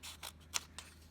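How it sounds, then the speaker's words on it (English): Scissors snip through paper in several quick, close cuts, a few crisp strokes spaced irregularly within a second, with no talking. "Here's my little bit more cutting to do."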